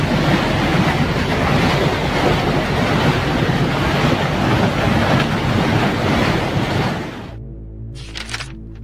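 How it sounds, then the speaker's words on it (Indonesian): Flash flood water rushing in a powerful current, a loud, dense, continuous roar close to the microphone that cuts off abruptly near the end, leaving a quieter tonal background. "banjir bandang tampak datang tiba-tiba dengan arus yang sangat deras"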